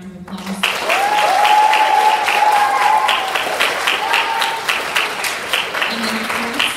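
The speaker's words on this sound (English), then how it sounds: "Give them a round of applause" Audience applause for the teachers at a DARE graduation ceremony, loud sustained clapping from a crowd with a few voices talking and calling out over it, fading slightly toward the end.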